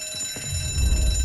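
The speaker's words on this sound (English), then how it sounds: "We done set up the damn alarm." An alarm in the Mafia Definitive Edition video game rings with a steady high electronic tone over low rumbling game sound, loud and continuous, with no talk.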